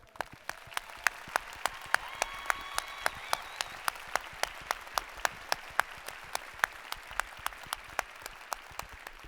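Commencement audience applauding steadily for an honorary doctorate recipient, dense sustained clapping from a large crowd at moderate distance, with a few sharp individual claps standing out and faint voices or whistles mixed in.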